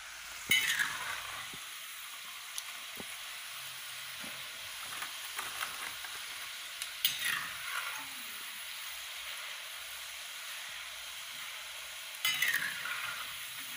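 Jackfruit chips frying in hot oil give off a steady, close sizzle, with louder bursts of stirring near the start, midway and toward the end. No one speaks.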